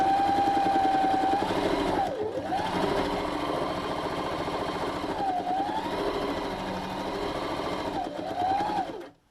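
An electric sewing machine stitching around the edge of a fabric tote bag: a close, steady whirring hum that briefly slows and dips twice as the fabric turns, then stops at the end.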